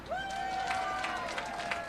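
Crowd applauding along a Fourth of July parade route, a steady wash of clapping and murmur with a sustained whistle-like tone riding above it.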